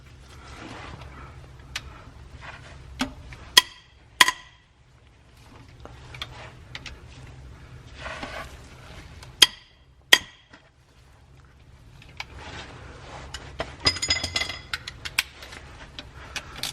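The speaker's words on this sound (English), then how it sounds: "we're going to take these 2 bolts out of the rear main cap here, and they're 5/8, so we're going to break them free with a breaker bar" Metallic clicks and clinks of a breaker bar and 5/8 socket loosening the rear main cap bolts on a C4 Corvette small-block Chevy 350, several sharp close knocks spaced apart over a low steady hum, no talk.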